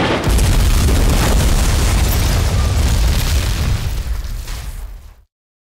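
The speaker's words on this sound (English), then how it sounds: "That bomb was so powerful." A bomb blows up in a makeshift evil lab, a loud, roaring blast that rumbles for several seconds, slowly fades and then cuts to silence.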